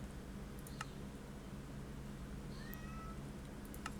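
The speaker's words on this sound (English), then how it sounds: "I'm getting meowed at." A pet cat meows faintly a couple of times, soft and brief against a steady low background hum.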